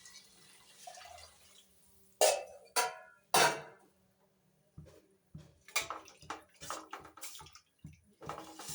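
Water measured by the tumbler and poured into a cooking pot with rice and sautéed potato masala for pulao, heard as several separate splashing pours with short pauses and light drips in between.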